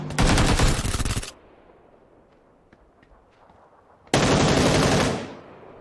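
Automatic gunfire in the video game PUBG Lite: two loud, sustained bursts of rapid shots, one at the start and one near the end, separated by a quiet stretch with faint scattered clicks.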